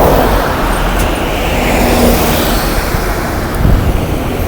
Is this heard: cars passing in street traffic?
yes